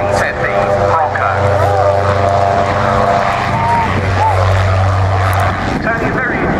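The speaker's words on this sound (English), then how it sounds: "Tony de Bruin with the North American OV-10 Bronco." North American OV-10 Bronco turboprop flying a display at a Royal Naval Air Station airshow, a steady propeller drone heard continuously under a commentator's talk over the loudspeakers.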